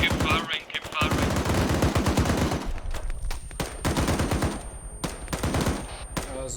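Rapid automatic gunfire from an Arma 3 military simulation battle, dense bursts of machine-gun fire with scattered single shots, loud and close, continuing throughout in a chaotic firefight.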